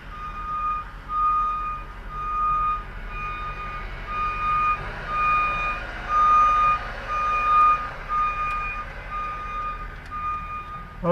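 Steady reversing beeps from a truck repeat in an even rhythm, fairly close, over a low engine rumble.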